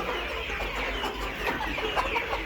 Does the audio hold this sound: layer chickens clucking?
yes